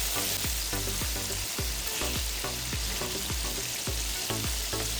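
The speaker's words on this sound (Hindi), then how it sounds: "हम इसको इतना फ्राई करेंगे कि चिकन भी गोल्डन होना शुरू हो जाए।" Chicken and garlic frying in a karahi, a steady close sizzle with rhythmic stirring scrapes repeating through the clip, no voices.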